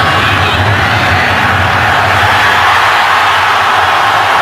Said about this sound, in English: he gets a huge cheer from the Green Bay